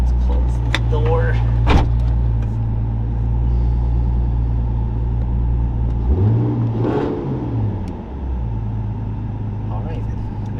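A Nissan 350Z drift car idles with a steady low engine rumble close by, rising briefly in a revving swell midway before settling back, while someone talks over it.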